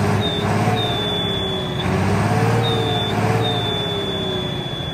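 A Case 1455 tractor engine runs at a steady idle nearby, a low rumbling drone with a recurring high whine that comes and goes over several seconds.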